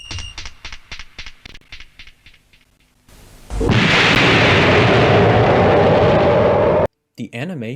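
Explosions from the bombing sequence of an animated nuclear war film: a run of rapid rhythmic pulses gives way to a sudden, sustained, roaring blast that fills the soundscape for several seconds before cutting off abruptly.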